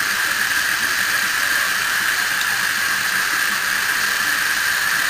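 Continuous steady hiss of water heating over HHO gas flames, loud and unbroken, with a faint high whine running through it and no voices.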